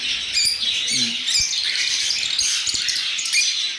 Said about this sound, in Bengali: তো মিক্স রোজি লাভবার্ড আছে এখানে